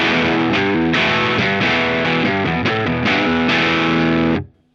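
An electric guitar played through a JHS Color Box pedal on a distortion setting, with thick, saturated chords struck in quick succession, loud and close, then cut off abruptly at the end.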